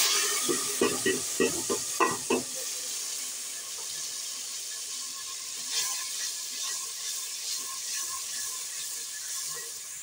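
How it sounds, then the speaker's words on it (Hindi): A juicer-ground spice paste sizzles and scrapes in a pan for a potato egg curry, with a few sharp stirring knocks early on, then a steady frying hiss with occasional clinks; no talking. "अब हमने जो मसाला पीसा है जूसर में वो इसमें भून लेंगे"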